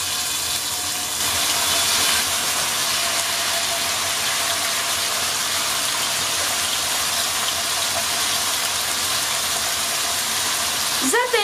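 Beef patties frying in hot fat in a pan, a loud, steady hiss and crackle that continues without a break from start to finish.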